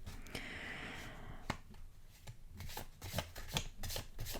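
Oracle cards being shuffled by hand, a sustained riffling rustle at the start followed by a run of crisp, close card taps and flicks with no talking.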